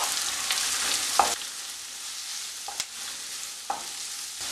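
Potato and snake gourd sautéing in oil for mezhukkupuratti, a steady crackling sizzle that drops in level partway through, broken by a few spoon scrapes and taps on the pan, no talking.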